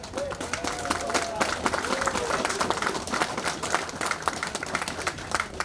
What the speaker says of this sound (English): How about a round of applause for all of us